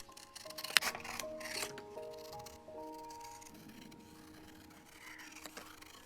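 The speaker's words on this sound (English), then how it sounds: "Now take a pair of scissors and carefully cut your stickers, one by one." Scissors cutting out small paper stickers one by one, close and quiet, with several crisp snips early on and soft rubbing and scraping of paper between cuts.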